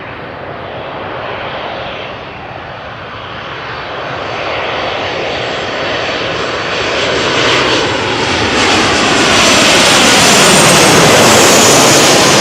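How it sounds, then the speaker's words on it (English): A KLM Boeing 737-800 arriving from Stockholm comes in to land at Amsterdam Schiphol, a broad jet-engine roar that builds steadily from moderate to very loud and close, with a hissing high whine across the final seconds. "The next airplane to land, arriving, which is a 737-800 from KLM, approaching from Stockholm."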